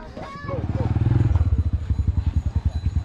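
A motorcycle engine in a rural Honduran village, close and loud, with a rhythmic pulsing putter like a revving single-cylinder bike that settles into a steady throb; a voice speaks briefly at the start.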